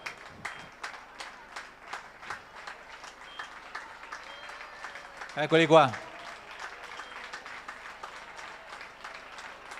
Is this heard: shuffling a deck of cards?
no